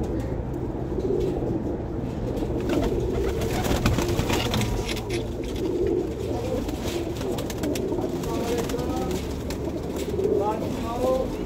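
A flock of about thirty pigeons coos on a riverside rooftop in Jhelum, a continuous layered cooing with some wing noise, heard close by while someone talks over it.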